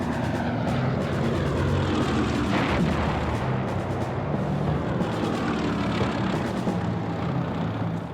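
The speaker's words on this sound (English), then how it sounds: "Spitfires fly from their airfields in southern England." Spitfire fighter planes flying from airfields in southern England, a steady broadband propeller-engine roar that stays loud and continuous throughout, with dense rumbling low end and no voices.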